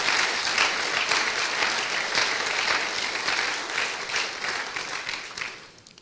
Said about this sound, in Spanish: Dale ese aplauso fuerte a Jesús.